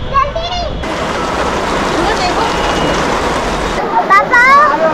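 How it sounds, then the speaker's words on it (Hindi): Heavy rain pours down in Noida as a dense, steady hiss that fills the whole stretch, with people's voices calling out briefly at the start and end. "दोस्तों न्योड़ा में ना बहुत तेज बारिश हो गई है"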